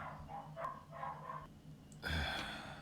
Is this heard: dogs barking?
yes